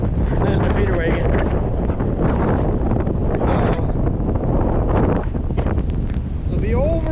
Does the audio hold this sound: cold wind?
yes